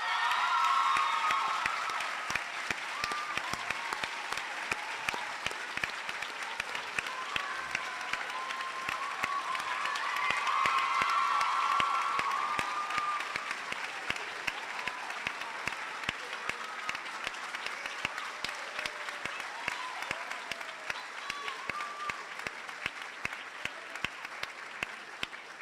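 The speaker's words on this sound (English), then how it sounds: "Let's give them all another round of applause." A large crowd at a high school speech day applauds continuously, with dense clapping and a slight swell of cheering midway, the ovation holding at a steady moderate level throughout.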